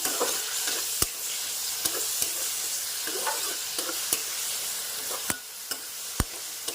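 Radish curry is stirred in a pan over a low flame, a continuous soft sizzle punctuated by sharp, irregular spatula clicks against the metal every second or so.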